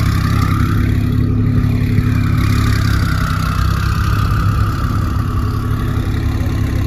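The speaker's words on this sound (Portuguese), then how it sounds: "Olha esse escapamento, velho." A Porsche engine idling steadily through its exhaust, a deep, even rumble close to the microphone with no talking.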